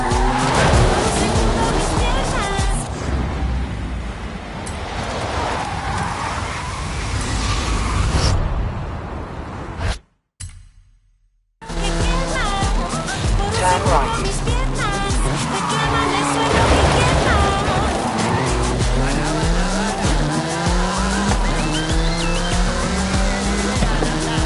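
A track-focused supercar roars through corners in Forza Horizon 5, its engine revving loudly with repeated tire squeals and skids; the sound drops out briefly mid-clip, then returns with shifting engine pitch.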